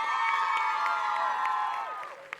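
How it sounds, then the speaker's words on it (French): A gala audience cheers and whoops loudly, a dense sustained crowd roar with high shouted voices and scattered claps, tailing off toward the end. "Bravo, on les applaudit bien fort, s'il vous plaît."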